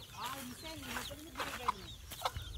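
Village chickens cluck softly nearby, scattered short calls mixed in with a person speaking.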